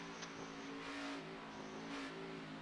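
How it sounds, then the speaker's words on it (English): Race car engine in an online racing league game on an Iowa oval, throttle blipped on and off in short revving bursts, a buzzy mid-pitched engine tone rising and falling, moderately faint with no talk. "And you can already hear Owen Bridges, hear him playing with that throttle, trying to get that car to rotate"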